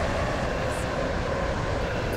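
A six-coach train in a railway video game rumbles along in a steady, dense broadband drone, loud and unbroken, with no voices heard over it.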